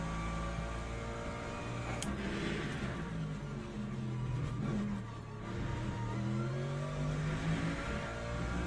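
Hypercars in the Le Mans Ultimate racing game sweep past at Imola, a steady layered engine roar with rising and falling revs from several cars, loud and continuous throughout with no talking.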